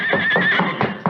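A horse in an old-time western radio drama gives a loud, close, quavering neigh that rises and wavers for about a second, with some thumping hoof or movement sounds mixed in.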